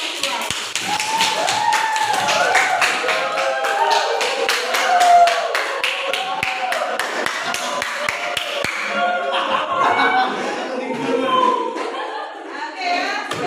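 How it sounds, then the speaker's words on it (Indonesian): Applause for a school group's presentation in a classroom, a dense run of many hands clapping close by with sharp irregular claps, voices chattering underneath and the clapping thinning out near the end. "Kita kasih aplaus untuk kelompok visual."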